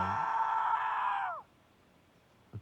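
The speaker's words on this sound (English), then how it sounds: "A dreadful scream echoed through the dining room" A dreadful scream echoing through a dining room in the game The House in Fata Morgana, a single sustained, loud shriek lasting over a second that bends downward and cuts off, followed by near silence.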